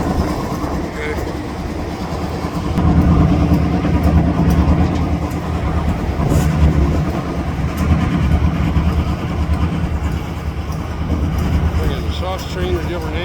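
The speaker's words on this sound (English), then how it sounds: "Train at a different angle, anyway." A freight train with hopper and center beam cars, pulled by four locomotives, rolls past close by. It makes a continuous heavy rumble with wheel clatter and metallic squeals that rise and fall as the cars go by.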